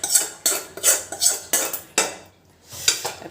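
A metal spoon scrapes and clanks against a cooking pot while chicken, potatoes and spices are stirred together, in about six steady strokes with a short pause before the last, close and clear with no talk.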